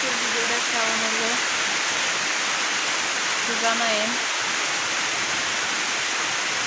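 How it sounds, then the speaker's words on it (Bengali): Heavy rain pours down in a steady, dense roar close by. A person speaks briefly twice over the constant downpour. "বৃষ্টি খুব জোরে আসতেছে আর মেঘও ডাকতেছে"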